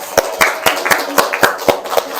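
A few classmates in a classroom clap their hands in a sparse, loose rhythm of about eight sharp, close claps over roughly two seconds, with no talk over them.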